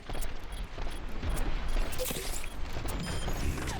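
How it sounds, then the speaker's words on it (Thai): Glitched gunfire in the video game Overwatch rattles as a continuous run of dense, clicky, mechanical-sounding shots, steady and fairly loud throughout. "เสียงปืนมันแป๊กแป๊กแป๊กอะ"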